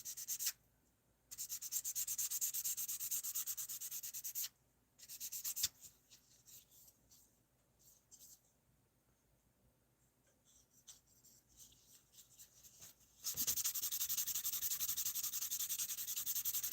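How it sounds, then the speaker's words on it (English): Plastic surface of a model aircraft wing being buffed, soft close rubbing and scratchy sanding strokes in bursts, loud stretches at the start and end with a quieter stretch of light rubbing in between. "Now I'm just doing like a little buffing of the rest of the plastic surface"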